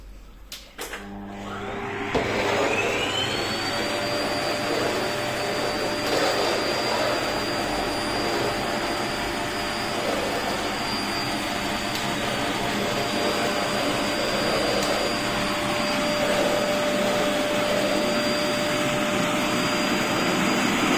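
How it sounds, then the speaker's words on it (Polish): A household vacuum cleaner roars steadily and loudly after a brief start-up, with a rising whine that settles into a sustained high tone as the clogging machine strains, running alone throughout. "Już zapchany odkurzacz."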